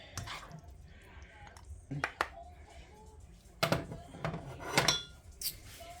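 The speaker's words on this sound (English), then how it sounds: "I'm going to go ahead and dip some out in my chili bowl to give to Danny" Homemade chili is ladled from a pot into a bowl, with soft metallic scrapes, clinks of ladle against cookware and wet plops in irregular bursts, while a voice talks faintly in the background.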